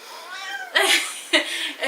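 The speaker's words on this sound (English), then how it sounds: "that's our cat, Lulu." A cat meows close by, two drawn-out calls with a brief gap between them, with nothing else going on.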